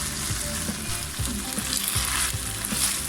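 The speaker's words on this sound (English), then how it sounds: "While you're cooking the mince, you also want to make sure you break it up quite fine" Minced meat fries in a pan with a loud, continuous sizzle close by, broken by the scrape of a utensil stirring and breaking it up.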